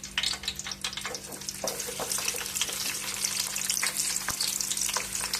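Green chillies fry in plenty of oil for a fish curry, giving a steady close crackling sizzle with a few sharp pops and a faint background hum.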